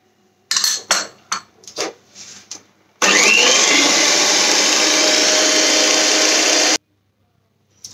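Mashed banana being mixed into a whole wheat, eggless, butterless banana bread batter: a few clattering knocks, then a loud steady whirring for about four seconds that stops abruptly.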